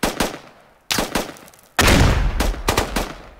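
Saw machine gun firing in the video game Squad, loud close bursts of rapid automatic fire, the last burst long and sustained, no talk.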